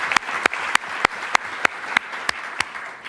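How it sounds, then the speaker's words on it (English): Applause at a celebration of James Baldwin's 100th birthday, with sharp, evenly spaced loud claps in a steady rhythm over a softer bed of scattered clapping from the audience. "let's clap it up"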